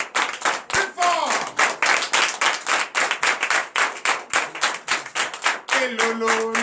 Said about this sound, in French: L'acclamation de notre Seigneur Jésus.